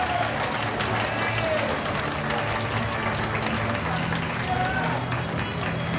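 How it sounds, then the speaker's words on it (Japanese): Steady applause from a crowd at a KROSS×OVER kickboxing event, honoring the losing fighter Fudo Myoo Kishida, holding a dense, even level throughout with a low hum and some voices underneath. "不動明王岸田選手にもぜひ大きな拍手をお願いいたします。"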